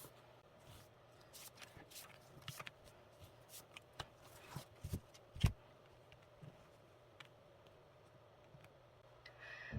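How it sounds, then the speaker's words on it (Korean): Tarot cards being shuffled and drawn, a series of soft close-up flicks, riffles and taps coming in irregular bursts over a quiet room. "우선 선택 카드를 뽑아 보겠습니다."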